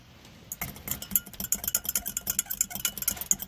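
A utensil stirring food coloring into oil in a glass, for an underwater fireworks experiment: a quick run of light, close clinks and taps against the glass, irregular and fairly soft, after a brief quiet start.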